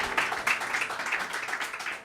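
Audience applause for a singer at a live event, a steady spread of many hands clapping at moderate level throughout, with no speech over it.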